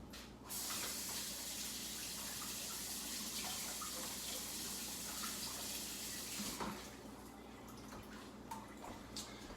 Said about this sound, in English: I'm going to wash this out because leeks can get kind of gross inside of it.